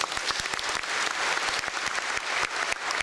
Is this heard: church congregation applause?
yes